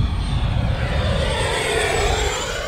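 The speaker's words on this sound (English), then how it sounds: "full throttle pass, full throttle dive, full throttle" An electric RC jet screams past at full throttle, a loud continuous high-pitched whine with a slowly falling tone as it sweeps by, dense broadband rush underneath throughout.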